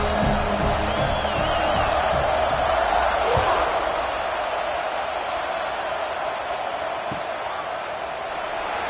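Football stadium crowd at a Notre Dame game before kickoff, a loud continuous roar and cheering throughout, with an announcer talking over it.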